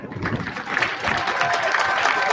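An audience applauds at the 60th-anniversary celebration of St. Edmund's Secondary School, a steady, dense wash of clapping that builds slightly and holds for the whole stretch, with some voices mixed in.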